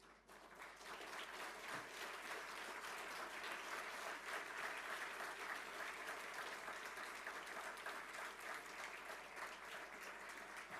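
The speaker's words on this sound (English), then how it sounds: "the big round of applause" Steady, dense round of applause from an audience at a data protection and privacy conference session, sustained at an even level for about eleven seconds.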